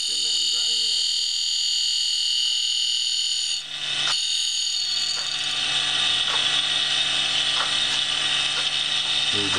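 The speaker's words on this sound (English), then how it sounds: "Do your 60 thou mark and then grind the next one." A grinding wheel works the flute of a ball nose end mill, producing a loud, steady high-pitched whine with mechanical ratcheting texture that briefly dips before resuming.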